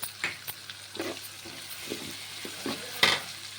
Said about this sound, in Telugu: ఇప్పుడు పచ్చిమిర్చి వేసేసుకున్నాను చూడండి